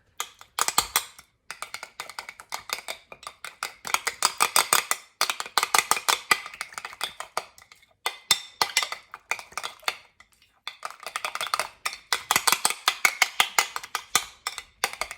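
A spoon stirs a sour cream mixture in a bowl, giving dense bursts of rapid clinking and scraping against the sides that pause briefly and resume, close and fairly loud with no talking.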